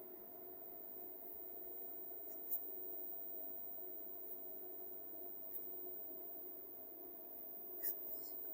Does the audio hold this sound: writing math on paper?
yes